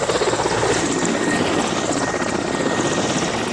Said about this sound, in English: they've called in the chopper to airlift them to a nearby military hospital